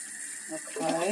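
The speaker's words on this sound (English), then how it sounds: "Then you cover it with water." Cold tap water running into a bowl of onions in a home kitchen, a steady splashing stream that rises in pitch and fullness as the bowl fills, with a voice talking over it.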